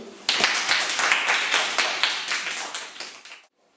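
Audience clapping in honour of the composer Stanisław Moniuszko, a brisk burst of many hands that starts abruptly, stays dense and fairly close for about three seconds, then fades and stops.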